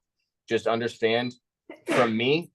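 A single sharp sneeze bursts out between stretches of someone talking, close and loud against otherwise quiet surroundings.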